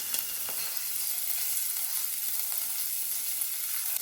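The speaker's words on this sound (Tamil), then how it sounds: "அதே எண்ணெயில் கொஞ்சமாக சீரகம் போட்டுக்கலாம். கொஞ்சமாக சீரகம் போட்டுட்டு வெங்காயம், பெரிய வெங்காயத்தை போட்டுக்கலாம்." Cumin seeds, onion and curry leaves sizzle steadily in hot oil, a dense crackling hiss that holds close and even throughout with no voices over it.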